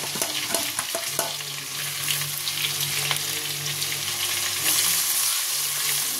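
Crushed ginger, garlic and green chilli fry in a small amount of oil, giving a continuous crackling sizzle punctuated by spoon scrapes and stirring knocks, close and without speech.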